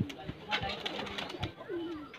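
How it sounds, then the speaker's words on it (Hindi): High flyer pigeons, a breeding pair with white plumage, give soft, low coos a few times at close range over a faint background murmur. "बड़े शानदार कबूतर हैं।"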